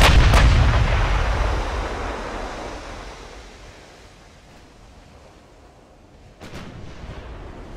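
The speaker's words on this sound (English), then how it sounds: "Looks like all our turrets are in action." Battleship gun turrets firing in the Ultimate Admiral: Dreadnoughts naval game: a heavy broadband blast opens and slowly decays into a long rumbling tail, then a second sharp boom hits near the end. No voices.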